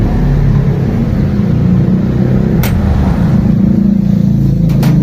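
A Toyota 4K engine idles after a tune-up, its exhaust giving a loud, steady low rumble close by, with a few faint clicks and no talking.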